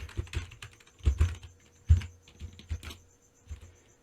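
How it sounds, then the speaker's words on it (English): Computer keyboard typing while writing a JavaScript calculator function, irregular bursts of close, crisp keystrokes with short pauses and a few louder thumping strokes, no talking. "let's type the function"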